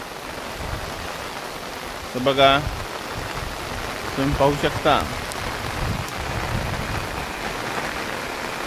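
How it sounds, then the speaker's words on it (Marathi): In a village, heavy rain pours down as a constant broadband hiss across waterlogged fields, while someone speaks briefly a couple of times over it. "धोधो पाऊस चालू आहे।"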